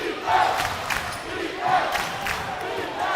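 A college basketball crowd at a conference quarterfinal game cheers after a layup, a moderately loud roar swelling in waves with a few sharper shouts rising above it.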